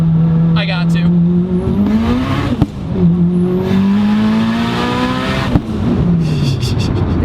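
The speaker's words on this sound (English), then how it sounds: "David looks at me and goes, huh, ATV, and then just launches this thing." A car launching and accelerating hard, heard from inside, climbs through the gears in loud rising engine pulls with sharp shift breaks, while people talk over it.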